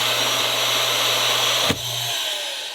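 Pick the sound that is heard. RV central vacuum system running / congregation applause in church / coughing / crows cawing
RV central vacuum system running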